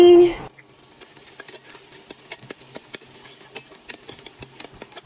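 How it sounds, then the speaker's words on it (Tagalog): Beef sizzles and is stirred in a pan while cooking for spaghetti, a steady low fry broken by frequent sharp scrapes and taps of a utensil, fairly close and with no talk. "Ginisa ko na yung ating karne."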